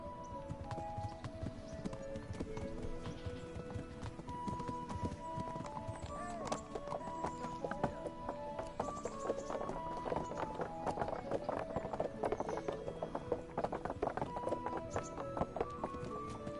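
In the video game Kingdom Come: Deliverance, a galloping horse's hooves clip-clop in a fast, steady rhythm throughout, set under a musical score.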